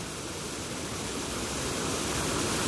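A waterfall in full spate in open countryside gives off a steady, even roar of rushing water, constant and unbroken, slowly growing a little louder.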